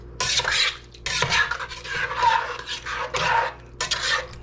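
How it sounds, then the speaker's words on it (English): A spoon stirring root vegetable soup with vegetable broth in a pot, giving close scraping and swishing strokes in three or four bursts separated by short pauses. "Give it a stir."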